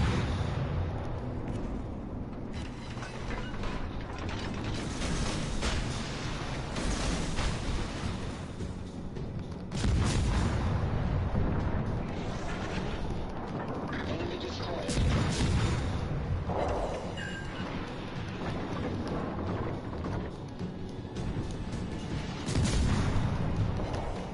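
Naval gunfire in the warship game World of Warships Legends, with repeated heavy booms and rumbling blasts over a dense, constant battle din.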